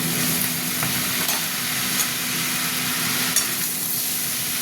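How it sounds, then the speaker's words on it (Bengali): Mixed vegetables and tomato fry slowly in a pan over a lowered gas flame, giving a soft, even sizzle with a few faint stirring scrapes and no voices. "গ্যাসটা একটু কমিয়ে দিয়ে আস্তে আস্তে ভাজা ভাজা হবে, হতে থাক"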